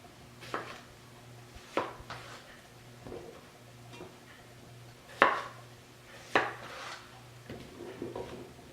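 A knife thunks down on a cutting board in slow, irregular strokes, quartering potatoes, quiet and close, with a faint steady hum behind it.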